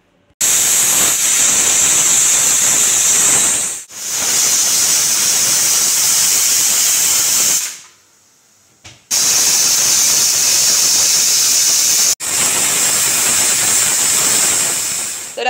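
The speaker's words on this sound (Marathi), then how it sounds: "आता मी ती एकदा धुणार आणि भाताबरोबर कुकरला शिट्ट्या करून घेणार" A pressure cooker with dal and rice lets out loud, sustained hissing steam whistles in several long bursts, broken by brief gaps and one near-silent pause.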